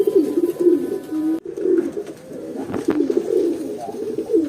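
American fantail pigeons cooing close by, repeated low throaty coos rolling one into the next with brief pauses, loud and clear with no talking.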